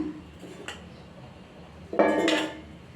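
A metal pot clanks down onto a stovetop with a brief scraping rattle, preceded by a lighter clink, close by with no talking.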